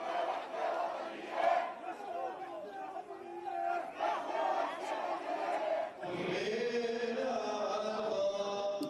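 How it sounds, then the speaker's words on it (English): A funeral crowd packs the narrow streets of Jerusalem's old city, many voices chanting and shouting together at some distance. Loud massed cries rise partway through. "Crowds filling the small streets of this ancient city."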